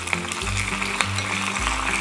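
Curry leaves dropped into hot oil with chopped chillies and crushed garlic for a sambar tempering, giving a steady close sizzle with a low hum and a few small pops, with no talking.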